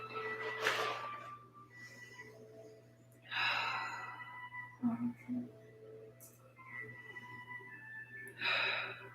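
Slow, deep breaths during a yoga session, several drawn-out inhales and exhales spaced a few seconds apart, fairly close and soft over a low steady hum.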